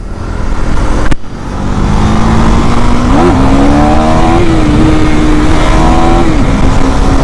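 KTM Duke 390 Gen 3 and KTM RC 390 motorcycles in a drag race, one loud, close engine roaring and climbing through gears after a sharp knock, with rising and dipping pitch at each shift.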